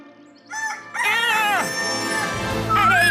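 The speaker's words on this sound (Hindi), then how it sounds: "उसकी आवाज कुकड़ू को आ रही है।" A cartoon rooster crows loudly and close by, one long drawn-out call rising and falling, with a brief clucking start.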